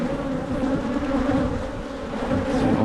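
Honey bees buzzing at an open backyard hive during a brood and pollen inspection, a dense, steady drone close by with no voices.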